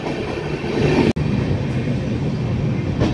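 A Humsafar Express train runs through Kalinarayanpur Junction with a continuous loud rumble and rolling noise. The noise holds steady throughout and is broken by one brief dropout, with no voices.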